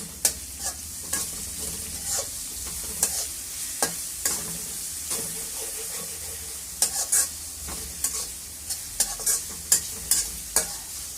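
Dried shrimp fry in a pan with browned onions and green chilies, a steady close sizzle broken by repeated scraping stir strokes at an uneven rhythm, with no voices.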